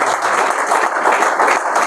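Audience applause fills a class at a de-addiction centre: a dense, steady wash of many hands clapping that holds at an even level throughout, with no voices over it.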